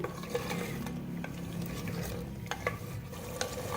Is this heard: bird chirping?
no